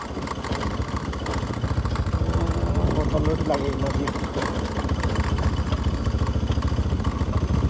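A motorcycle travels over a rough road with a steady, rumbling engine drone throughout, while riders talk over it.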